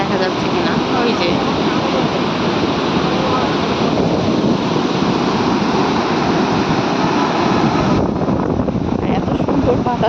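Strong wind sweeps across a bridge and buffets the microphone in a continuous, loud, roaring rush like sea surf, with no breaks for the whole stretch.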